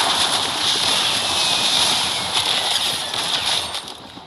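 A helicopter in a shooter video game flies close by, giving a loud, steady, airy whir with a slight fade toward the end.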